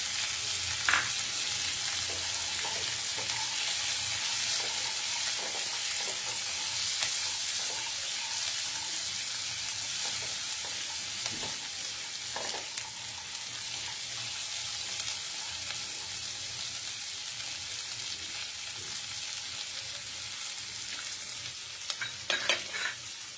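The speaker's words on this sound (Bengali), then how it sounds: "পেঁয়াজ ভাজা হতে হতে এখানে আমি মটরশুঁটিটাকে দিয়ে দিচ্ছি" Onions and green peas frying in a pan give a continuous sizzling hiss for over twenty seconds, with occasional scrapes and taps of a spoon stirring and faint water-like sounds in the background.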